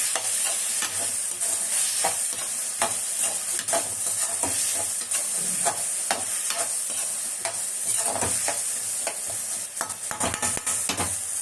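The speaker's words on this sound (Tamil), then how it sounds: "நல்லா வதங்கட்டும்" Drumsticks sautéing in a pan of hot oil, stirred with a spatula; a steady, loud crackling sizzle broken by frequent sharp scraping clicks of the utensil against the pan, with no voices.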